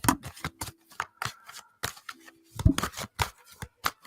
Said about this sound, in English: I can't shuffle decks like this.